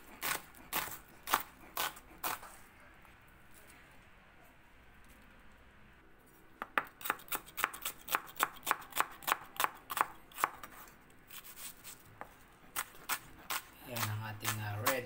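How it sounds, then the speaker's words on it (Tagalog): Red onion chopped with a knife on a cutting board, a steady run of sharp, close knocks in quick rhythm, pausing midway before resuming and ending with a low rumble. "Chop onion."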